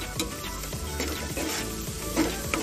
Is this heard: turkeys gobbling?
no